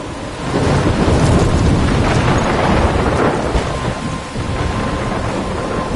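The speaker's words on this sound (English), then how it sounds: "I'm trapped in a storm?" Thunderstorm in the video game Life is Strange, with a loud, continuous rumble of thunder over steady heavy rain that eases slightly toward the end.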